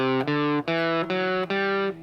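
Distorted electric guitar plays a short run of about four sustained single notes in close succession, clean and loud with no voices.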